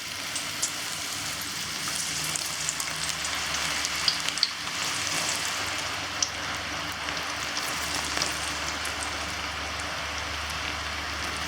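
Masala chickpeas fry in hot oil with a steady, dense, close sizzle and crackle that holds for the whole stretch. Small pops sound now and then, and no voice is heard.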